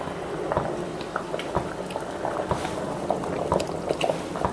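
Andhra-style drumstick root sambar bubbling in a pot, with a loud, close, continuous burble of popping bubbles and occasional thicker plops.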